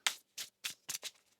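Tarot cards being shuffled by hand in five quick riffling bursts, close and crisp, with short pauses between them and no voices.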